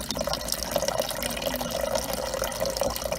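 Water runs steadily through the supply line and inlet valve at the back of a Whirlpool refrigerator, giving a continuous close hiss and trickle of flowing liquid.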